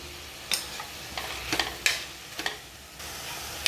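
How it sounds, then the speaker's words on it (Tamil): Onion, ginger, garlic and tomato sauté in a pan for prawn gravy, giving a steady soft sizzle broken by several sharp scraping stirs of a spoon against the pan, close by with no talking. "வெங்காயம் இஞ்சி பூண்டு பச்சை வாசனை போகிற வரைக்கும் வதக்கணும்"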